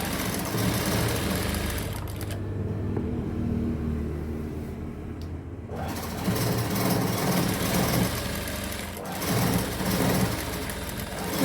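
A sewing machine stitches the lining of a blouse with a steady, close mechanical whirr that stops for a few seconds, then runs on continuously again.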